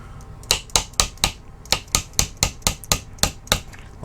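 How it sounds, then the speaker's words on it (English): A small hammer strikes a little punch to drive a tight pin out of a TEC 9 receiver, giving about a dozen sharp, close metallic taps in a steady rhythm, with no voices. "So a little punch and a small hammer."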